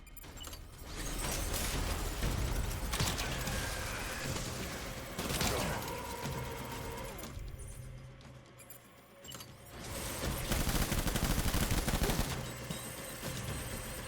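Gunfire in the video game Death Stranding, a dense, sustained barrage of shots and explosive bursts with mechanical clatter, loud and continuous with a brief lull in the middle.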